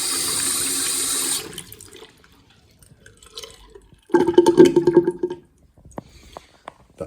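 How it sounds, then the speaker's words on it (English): A bathroom basin drain gurgles as its trap seal is sucked out. Water rushes loudly at first, then after a quiet gap a burst of wet gurgling bubbles up for about a second and a half before fading. "That gurgling is the trap seal being sucked out."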